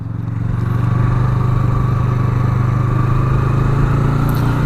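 A 2017 Yamaha MT-03 motorcycle engine while riding, a steady, loud, close droning hum that holds an even pitch throughout with no speech.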